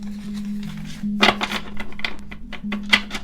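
Tarot cards are shuffled by hand, with quick papery riffles and taps in uneven bursts over a low steady hum, close and fairly clear.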